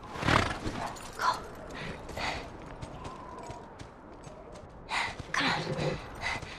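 A horse gallops in The Last of Us video game, its hoofbeats rising and falling in bursts alongside snorts and gasps.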